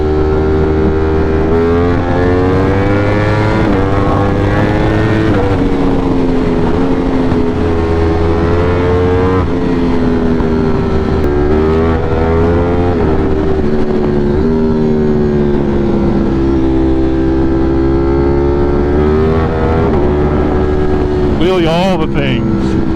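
A powerful production motorcycle pulls hard along a road while commuting home, its engine note climbing and dropping through the gears in long sustained pulls, loud and close throughout with heavy wind rush.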